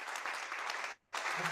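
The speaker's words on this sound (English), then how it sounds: "Let's give a big, big, big round of applause here" A church audience claps after a sermon, a dense burst of applause that stops abruptly for a moment and then resumes just as loudly.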